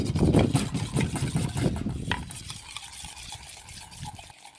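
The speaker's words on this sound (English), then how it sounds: "Let me mix that first." Egg, water and flour batter being mixed in a bowl, a close, busy wet stirring and sloshing that slows and fades into quieter dabbing after two seconds, with no talk.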